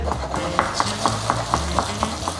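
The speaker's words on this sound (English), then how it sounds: "I'm just gonna like get them out of the oven. I'm gonna shake them a little bit." Roasted carrots pulled from the oven and shaken in a metal pan, a steady run of rhythmic scraping rattles about four per second with faint sizzling underneath, close and moderately loud.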